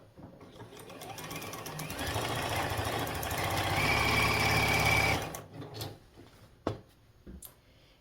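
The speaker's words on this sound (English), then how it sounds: "when I run them under the sewing machine" A sewing machine stitches fabric in a steady, rapid mechanical whir for several seconds, then stops, followed by a few soft clicks and handling sounds.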